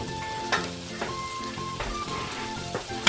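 Bitter gourd (ampalaya) sautéing in a pan, a steady close sizzle and crackle of frying with a few sharper clinks and spatters, no voices.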